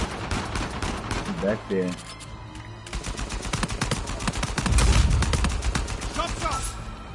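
Heavy gun fire in Uncharted 4 multiplayer, rapid bursts of shots through most of the stretch, loudest near the middle, with players talking over the gunfire.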